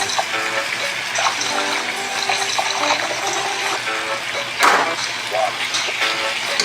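Water pours into a pan of sotanghon guisado noodle stir-fry with cabbage and other vegetables, a steady splashing gush with a brief louder splash partway through.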